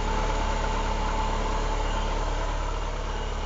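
A Peugeot 205 GTI 16-valve car engine idles steadily while warming up at a low, even rumble with a faint vibrating hum, running on its own without voices.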